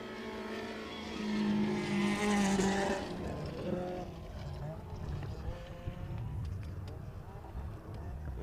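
Rally car on a special stage of a live-covered rally event, a loud engine note rising and peaking as it passes close by, then fading away under ongoing commentary and crowd noise.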